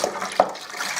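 Tap water runs into a homebrew cider bucket, a brief close rushing splash with one small sharper spatter partway through.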